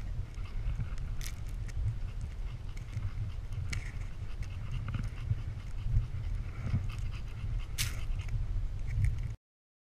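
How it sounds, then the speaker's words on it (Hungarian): A desert dog pants close by in quick, steady breaths over a soft low rumble. A few sharp clicks and rustles break in now and then before the sound cuts off abruptly. "Igazi sivatagi kutya."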